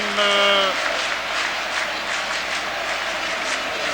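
A stadium crowd at a Belgium versus Wales World Cup qualifier applauds a substituted player, broad roaring applause filling the stands, with a brief whistle tone at the start.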